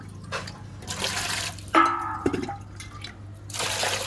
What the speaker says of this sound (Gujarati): તો આપણે પાણી આમાં લઈ લઈએ.